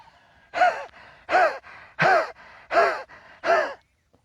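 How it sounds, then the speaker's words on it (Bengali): Five forceful exhalations during a yoga breathing exercise, each a loud, rough burst of air pushed through the throat, evenly spaced with short quiet gaps between them, close to the mic. "আমার গলায় এই যে শ্বাস নালীতে যেন চাপ পড়ে শ্বাসটা ত্যাগ করার সময়"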